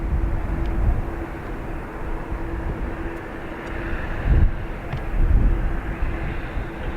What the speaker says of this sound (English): So this 330 is off to Seattle.